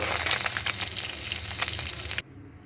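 Small mourola fish fry in hot oil, giving a loud, close, continuous sizzle with a few bursts as they are turned, then it drops away abruptly near the end.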